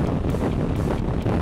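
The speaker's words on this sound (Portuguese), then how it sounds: "começou um vento animal" Strong wind roars and buffets across the microphone while riding a motorcycle on the road toward El Chaltén in Patagonia, a steady loud rush with no talk.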